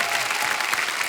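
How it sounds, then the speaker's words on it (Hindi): Studio audience applause for guests on a Hindi TV comedy show, a brief, dense wash of steady clapping at even loudness. "एक बार जोरदार तालियां हमारे मेहमानों के लिए"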